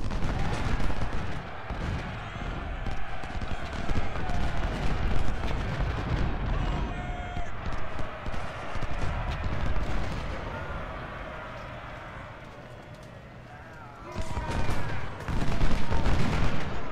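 Cannon fire from Civil War-era artillery batteries shelling a ship in a strategy game, heavy booming volleys and crackling musketry rolling continuously, dipping briefly before swelling loud again at the end.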